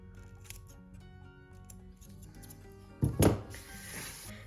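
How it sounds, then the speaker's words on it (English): Scissors trim the vinyl edge of a sewn earbuds pouch. A few quiet snips come close by, ending in one louder, longer cut. "I'm just gonna trim it and now I'm gonna have a nice clean edge."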